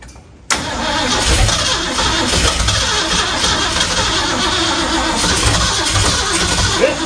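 The Big Hoss engine catches after cranking, following 30 years in a museum, and settles straight into a loud, steady running roar that fills the rest of the stretch close up, with no voices over it.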